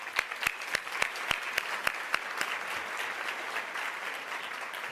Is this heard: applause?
yes